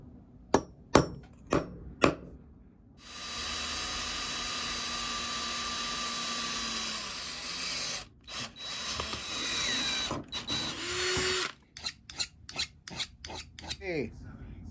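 A power drill bores holes while a vacuum windshield-washer pump switch is converted to electric. A few sharp taps come first, then a steady whining drill run of about five seconds, then short, choppy bursts and clicks close by, with no talking.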